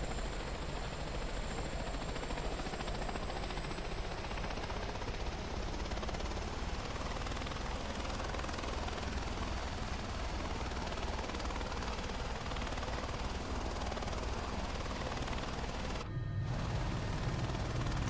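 Helicopter in Microsoft Flight Simulator being throttled up, a dense continuous rotor and turbine roar with a slowly rising whine, steady and loud throughout with a brief dropout near the end.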